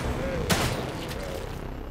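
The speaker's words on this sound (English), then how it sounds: "So shoot him in the chest. Shoot him, shoot him." Gunfire in The Evil Within 2: a single sharp shot rings out amid a steady game backdrop, with someone talking over the action.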